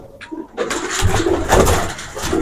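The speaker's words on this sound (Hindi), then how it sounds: "ये सारे तकरीबन नहरों वाले कबूतर हैं" Pigeons coo softly amid fluttering and rustling, with bursts of noisy activity and wings close by.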